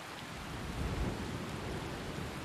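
Rain and a low thunder rumble in the video game Skyrim Special Edition, a steady hiss of rainfall with a deep rolling swell near the middle, fairly faint and with no talk.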